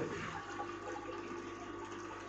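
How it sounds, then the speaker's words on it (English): Tap water runs in a steady stream while its flow rate is being measured, a constant rushing and splashing hiss at moderate level with no speech. "i'm going to measure some, the volume of water that's flowing"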